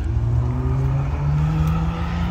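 An Acura Integra race car at an autocross accelerates hard, its engine note climbing steadily in a loud, close, continuous rising drone with no talk.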